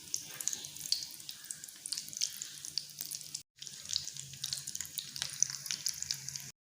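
Chicken potato balls fry in hot ghee, a continuous soft crackling sizzle with faint bubbling, steady and close, broken by one brief gap.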